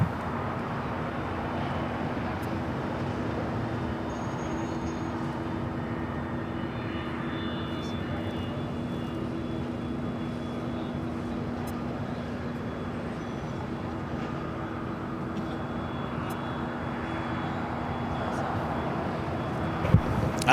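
An ANA Boeing 787-9 Dreamliner in blue Future Promise livery departs LAX for Tokyo Narita, its jet engines a steady, broad roar held at an even level throughout, with faint talk underneath.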